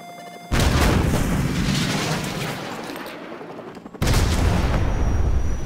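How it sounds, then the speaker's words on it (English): A Stinger missile launch and heavy explosion in Call of Duty Modern Warfare Remastered, with a loud sustained roar that dips, then a second powerful boom that stays loud to the end. "grab another Stinger and fire again"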